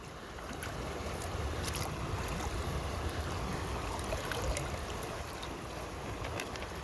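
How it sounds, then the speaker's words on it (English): Icy, cold local river flowing steadily nearby, a continuous broadband wash of moving water with faint splashes, no talking. "so this is my local river here, and as you can see it's pretty icy and cold"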